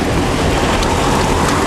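Rain falling on a street in Porto, Portugal, a steady, loud, dense hiss with no letup and no voices.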